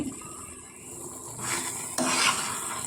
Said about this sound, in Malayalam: നല്ലപോലെ മിക്സ് ചെയ്യണം ഞാൻ നല്ലപോലെ മിക്സ് ചെയ്യട്ടെ